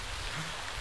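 Steady rain falls outdoors during a gathering, a soft, even hiss of drops with no break and no voices over it.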